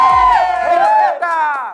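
A group of children cheering and shouting together for a contestant during a sticker-flipping game, loud and close, with rising and falling high-pitched voices sustained throughout.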